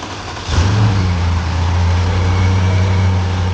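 2012 Bentley Continental GT engine, freshly reinstalled, kicks up from a low idle into a steady loud rev that holds with a deep droning hum close by.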